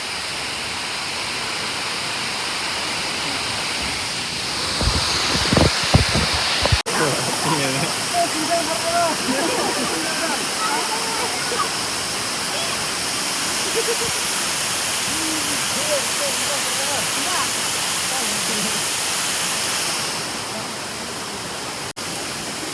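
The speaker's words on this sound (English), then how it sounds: "Enjoying the waterfall." Pdem Falls waterfall pours as a loud, steady broadband rush of falling water heard up close throughout, with people talking and calling out beneath it and a few brief knocks near the start.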